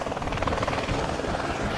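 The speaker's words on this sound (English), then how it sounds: "as the ECT helicopter leaves." Helicopter leaving a rugby ground during an East Coast versus Poverty Bay match, its rotor throbbing steadily and fairly loud for a short stretch.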